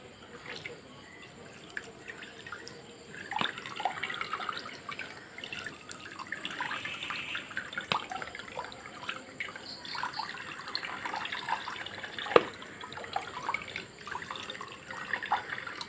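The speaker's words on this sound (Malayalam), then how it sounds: "ഇതാ ഞാൻ നമ്മുടെ ഇൻഡോഫില്ല ഒന്ന് ഒഴിച്ചു കൊടുക്കുക." Indofil fungicide solution poured onto a potted orchid being repotted, a soft, faint trickle and light splashing of liquid with a few small drips, steady and close over quiet background noise.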